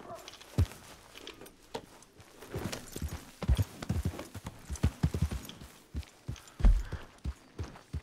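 Horse hooves clip-clop at a walking pace in the video game Red Dead Redemption 2, an irregular run of close, distinct thuds that thickens into a busier cluster midway, with faint background ambience.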